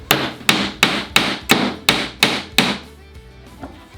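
Eight sharp hammer blows drive nails into wood in a steady rhythm, close and loud, each ringing briefly before fading into quiet.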